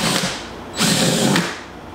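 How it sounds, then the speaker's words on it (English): A power drill bores holes into the corners of a board for a homemade dust-free drying box, giving a close, loud whirring grind that surges in the middle and then eases off. "I'm drilling holes in all the corners"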